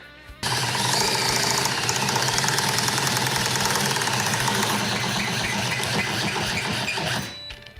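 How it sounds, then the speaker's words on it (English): A power drill turns a garage ceiling hoist to lift a Bronco hard top, running loud and continuous with a rattling mechanical drone for about seven seconds before stopping. "use a power drill to do this"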